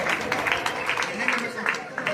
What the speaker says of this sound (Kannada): ಎಲ್ಲ ವಿದ್ಯಾರ್ಥಿಗಳು ಚಪ್ಪಾಳೆ ತಟ್ಟುವುದರ ಮೂಲಕ